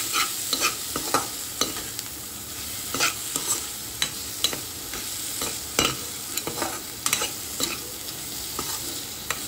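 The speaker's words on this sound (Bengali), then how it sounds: "স্বাদ মতো লবণ আর কিছুটা পরিমাণে চিনি দিয়ে সমস্ত কিছু ভালোভাবে মিশিয়ে নিচ্ছি।" Spices, salt and a little sugar stirred in a frying pan for a banana-flower and prawn dish, a steady scraping of spoon against pan with soft sizzling, close and alone, with repeated sharp strokes.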